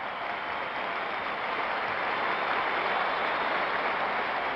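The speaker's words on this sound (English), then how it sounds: "The applause for Baylor" Steady, dense applause from a large crowd of basketball fans at Madison Square Garden fills the arena, continuous and loud throughout without any pauses.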